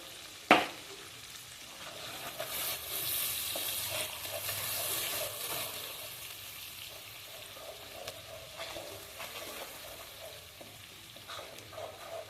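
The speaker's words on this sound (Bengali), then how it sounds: "ভালোভাবে মশলাটাকে ভেজে নিয়েছি।" Spice masala with red chili powder frying in a pan for a pabda fish curry, a soft continuous sizzle after a sharp clank of utensil at the start, with occasional stirring scrapes, quiet and close.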